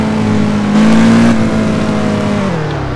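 An F1 car in the racing game Test Drive Unlimited 2 holds a loud, steady high-pitched engine whine that rises briefly, then drops in pitch near the end, with no talk.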